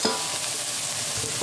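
Steady close-up sizzling and frying of onion and coconut in a pan, with faint scrapes of stirring near the start and end.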